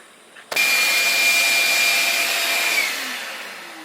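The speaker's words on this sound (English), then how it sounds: "let me just vacuum this really quick" A vacuum cleaner switches on abruptly and runs loud and close during cleaning of an S13 car, with a steady, roaring whine that eases slightly toward the end.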